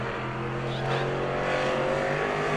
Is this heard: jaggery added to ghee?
no